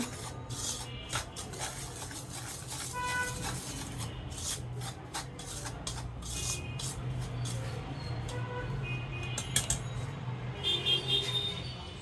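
Dry ingredients for milk pitha are mixed by hand with a sieve, producing a soft, steady rubbing and rasping with scattered light taps and scrapes, close and quiet.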